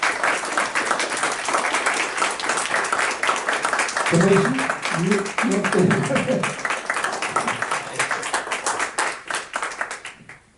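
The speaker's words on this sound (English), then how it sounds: "we want to give you a great round of applause." Sustained applause fills a Fannin County Board of Commissioners meeting, many hands clapping in a dense, even patter from start to finish while someone speaks briefly partway through.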